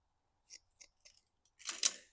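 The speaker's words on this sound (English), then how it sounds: "we'll just cut a small piece with the scissors" Scissors snip a piece from a pot scrubber in a few short, close cuts, followed by a louder, crunchier burst of cutting through the scrubbing material, in a quiet setting.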